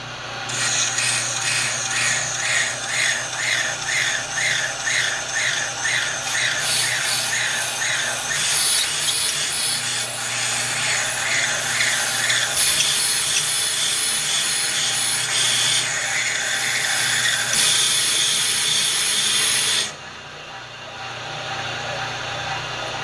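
A brake lathe resurfaces a rear brake rotor from a 2016 Honda Civic LX, with a steady grinding rasp and motor hum that run continuously and loudly for most of the stretch, then drop off sharply near the end.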